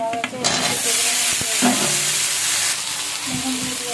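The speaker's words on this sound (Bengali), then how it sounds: "আলুগুলো আমি আগে ভাজা করে নেব" Potatoes fry in a pan with a steady, loud broadband sizzle, broken by a few stirring scrapes and clatters near the start, and the hiss grows brighter toward the end.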